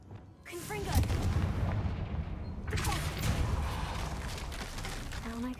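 In Hogwarts Legacy, the Confringo blasting spell goes off as a heavy booming explosion with crackling debris. A second blast follows a couple of seconds later, and the rumble lingers between the two.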